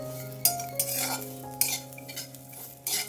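Peanuts, garlic, ginger, sesame seeds and coriander seeds sautéing lightly in oil for a drumstick curry, with steady soft sizzling and several sharp scrapes and clinks of a spoon stirring the pan, no voices.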